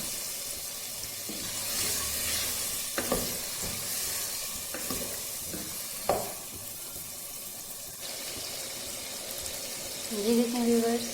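Black chickpeas stir-fried in oil in a pan for a curry, giving a steady broadband sizzle with scraping stirs and occasional spoon knocks, fairly close throughout.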